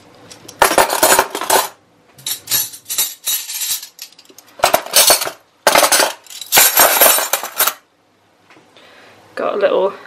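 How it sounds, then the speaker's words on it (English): Hammered-effect metal cutlery is dropped back into a drawer or holder in repeated clattering bursts, loud and close, with short pauses between handfuls and a softer clink at the end. "So I'm just gonna pop all our cutlery back in."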